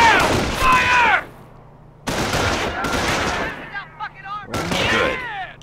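Gunfire in the World War II strategy game Company of Heroes, with rapid machine-gun bursts and rifle shots in several loud volleys separated by short pauses, with voices shouting between them.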